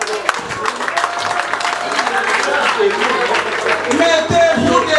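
A memorial gathering's audience applauding the Moujanaï family as they stand, clapping mixed with crowd murmur and voices talking over it, fairly loud and close.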